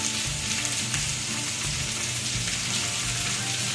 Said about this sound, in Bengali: মাছটাকে হালকা হলুদ মরিচ মাখিয়ে ভেজে নিচ্ছি